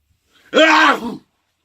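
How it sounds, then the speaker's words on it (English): One loud, unusual sneeze bursts out close up, a rough, guttural, throaty blast lasting under a second, surrounded by silence. "it's not a normal sneeze. It's the kind of noise that a caveman would make when he met a non-friendly neighbor."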